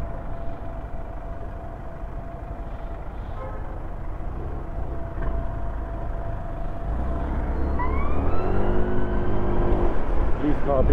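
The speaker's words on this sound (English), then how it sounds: "car behind us trying to get through" A car in London street traffic, passing close behind near St. Pancras, rumbles low and steady, swelling louder toward the end under a spoken voice.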